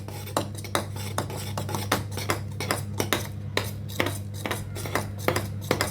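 A spoon mixes cocoa powder into milk for hot chocolate, clinking rhythmically against the cup or pot in quick repeated strokes, close and clear with a low steady hum behind and no talking.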